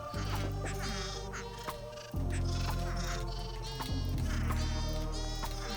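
Sheep in the Minecraft video game bleat several times in quick succession, loud and close, over a steady droning game soundtrack.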